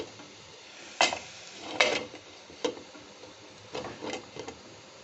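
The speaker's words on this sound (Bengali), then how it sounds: "গ্যাসটা অফ করে দিলাম আর এই ঢাকাটাও দিয়ে দিলাম আমি এখন।" With the gas turned off, a lid goes over a cooking pot of papaya upma, giving a few scattered metallic clanks and taps over a quiet kitchen background.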